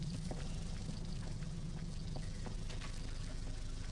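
Water pouring and splashing in the back of a truck in the video game Insurgency, a steady rushing wash that stays loud and constant throughout, with no talk over it.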